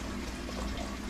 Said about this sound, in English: And I'm running water in the sink